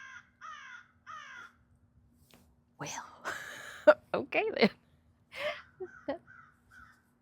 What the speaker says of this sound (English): we have a dialogue going on between the crows